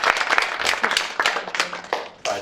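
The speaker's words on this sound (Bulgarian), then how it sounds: "Моля за аплодисменти." Scattered clapping from an audience in a hall, uneven bursts of hand claps that thin out and pick up again.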